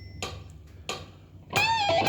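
Distorted electric guitar playing the opening phrase of the lead solo from a song: two picked chord stabs, then a sustained high bending note, close and alone.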